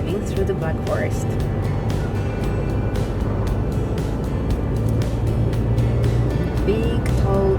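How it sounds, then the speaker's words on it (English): A car drives along a road through the Black Forest, with a steady engine and road rumble from inside the cabin and a few clicks and knocks on top, while people talk faintly. "We are driving through the Black Forest."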